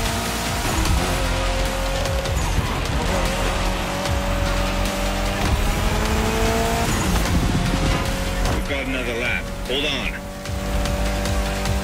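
Race car engine in The Crew Motorfest, Made in Japan playlist on expert difficulty, revving steadily with shifting pitch and brief tire squeals, loud and continuous under a voice speaking.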